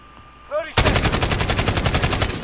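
Rapid automatic AK-47 fire in a video game: a short rising tone, then a loud sustained burst of evenly spaced shots, about nine per second, continuing without pause to the end.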